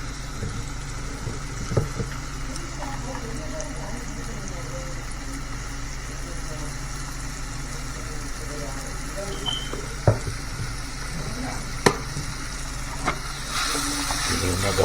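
Apples frying in oil in a pan with cinnamon, a steady soft sizzle running throughout with a few sharp clinks and knocks of the pan, while a voice talks over it.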